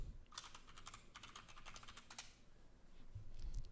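Typing on a computer keyboard, a quick run of close, light key clicks in an uneven rhythm, then a pause and a few scattered taps at the end.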